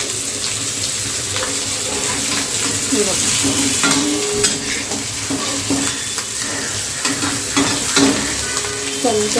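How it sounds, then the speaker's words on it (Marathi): Aloo matar tikki patties fry in an oily pan with a steady sizzle, joined by stirring scrapes and some running-water and sink clatter in the background. "आपल्याला दोन्ही साईडने आपल्याला चांगलं फ्राय करून घ्यायचं आहे"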